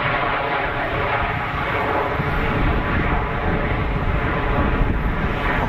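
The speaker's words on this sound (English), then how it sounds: "Big armful of reverser." A steady, loud roar of an airliner's engines on reverse thrust while landing at Geneva Airport, holding a dense, even rumble for several seconds with no voices.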